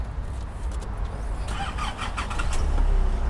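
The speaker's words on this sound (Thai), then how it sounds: "เดี๋ยวพี่อุ้ยติดเครื่องให้หน่อย" A Nissan Navara 2.5 pickup engine cranks and catches, settling into a steady close idle with a brief rise as it fires, with no voices present.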